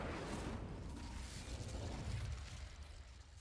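The Incendio fire spell is cast in Hogwarts Legacy: a single loud, rushing burst that erupts at once and fades over a few seconds, heard alone.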